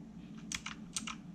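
A few quick keyboard key presses click in short clusters against a steady low hum, close and fairly quiet.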